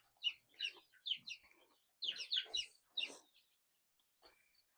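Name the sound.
chickens clucking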